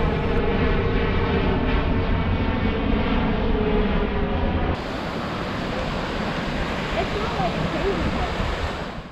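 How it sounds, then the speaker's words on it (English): A loud airplane roars overhead as a steady, broad engine rumble that holds strong throughout, shifting in tone midway before easing slightly at the end. "Even loud airplanes became a relaxing sound to take in."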